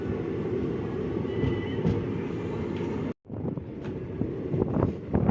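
A passenger train heading toward Lathi station rumbles steadily with wind buffeting the microphone, a brief dropout midway, then continued rail clatter, close and loud with no speech.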